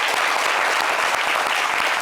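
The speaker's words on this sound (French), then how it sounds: "Applaudissez pour la team de Mood by Essa." A studio audience applauds for the Mood by Essa team, dense steady clapping that fills the whole stretch at an even level with no voices over it.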